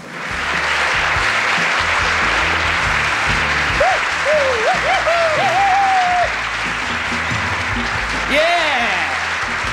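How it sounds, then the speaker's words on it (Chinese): Studio audience at a Taiwanese variety show clapping steadily and loudly throughout, with a presenter's excited voice calling out over it. "来，掌声鼓励鼓励"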